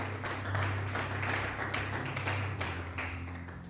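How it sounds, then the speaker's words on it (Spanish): Steady, dense applause from a large church congregation, continuous and fairly even throughout over a low background hum. "Denle un fuerte aplauso a Cristo con todo su corazón"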